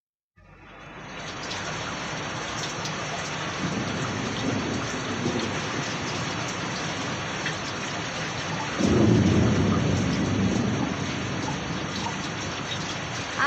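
Heavy rain pours steadily during a thunderstorm, with continuous rolling rumbles of thunder and a louder, deeper thunder swell near the end; no voices are heard.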